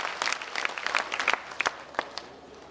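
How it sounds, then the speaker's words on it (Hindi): Enthusiastic clapping from a crowd at a political rally in Dharampur, Himachal Pradesh, with sharp, irregular hand claps rising into a sustained burst of applause. "जिसने मुफ्त में लगवाई जरा मोदी जी के लिए जोरदार ताली मार दें"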